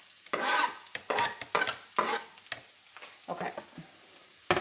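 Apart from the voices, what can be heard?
onions frying in a pan on the stove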